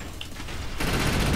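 Rapid automatic gunfire in the video game Defiance breaks out suddenly partway through, a loud dense burst of shots after a quieter stretch of ambient game noise.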